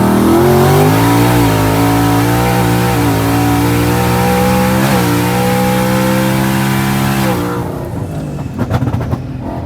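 Boosted street car running 17 psi of boost on a hard 60 to 130 mph pull, the engine roaring loud and close and climbing in pitch through gear shifts before backing off near the end.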